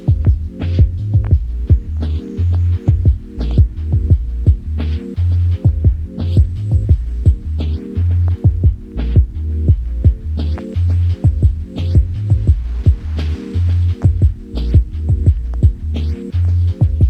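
Synth master output driven through an Elektron Analog Heat distortion unit: a loud, dense looping pattern of thumping distorted bass pulses and buzzing tones in a steady rhythm, with no voices.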